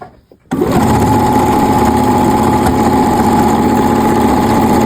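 Sewing machine stitching trousers starts up after a brief pause and runs at a fast, steady whirring hum with a rapid mechanical patter, loud and close throughout.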